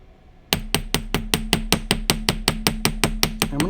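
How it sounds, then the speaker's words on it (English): A texturing hammer strikes a wire bangle about sixteen times in a steady, fast rhythm, each blow a sharp, close metallic tap. "Okay, and now you can hammer again."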